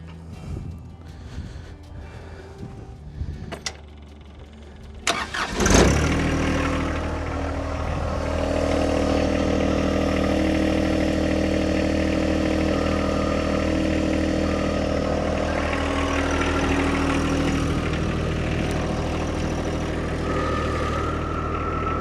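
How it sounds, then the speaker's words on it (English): A tractor engine cranks and catches with a sudden loud burst, then settles into a steady, rumbling idle that continues close by. "I'm gonna start the engine back up."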